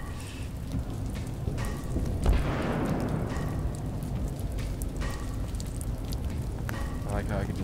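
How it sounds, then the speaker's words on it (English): Rain falling on the Waterworks map in the video game Halo Infinite, a steady wash of raindrops patter throughout, with a brief thud near the middle and game effects layered on top. "I like how I can just hear raindrops"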